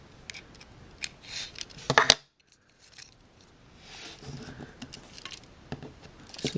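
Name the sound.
coin unscrewing the Nikon FG battery cover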